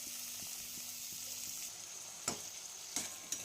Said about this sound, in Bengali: এবার তেলের মধ্যে পাঁচফোড়ন দিয়ে দিচ্ছি আর পেঁয়াজ আর কাঁচা লঙ্কা